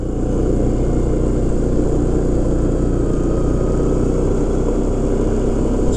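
An MSA 400 engine pulls slowly in low gear, a loud, steady low-pitched drone holding constant throughout with no pauses.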